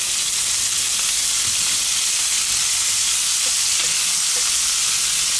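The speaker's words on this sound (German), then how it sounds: "Jetzt werden die auch schon angebraten." Small onions with a splash of oil sizzle in a pan over a grill for shashlik skewers, a steady broad frying hiss with a few soft clicks and stirring bumps, fairly close.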